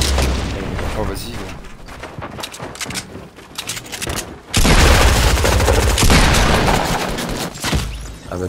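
Gunfire bursts in the video game Fortnite, with dense rapid shots and booming blasts throughout, loud and continuous, under excited French-speaking players talking.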